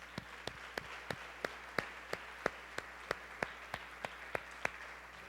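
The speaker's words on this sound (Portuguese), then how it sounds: "você podia aplaudir a Jesus" A congregation at a family celebration church service claps faintly and distantly in an even rhythm, about three claps per second, with no talking over it.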